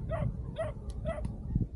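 A Tibetan mastiff barks at a cyclist on the road, three deep, evenly spaced barks in quick succession, close and fairly loud over low background rumble.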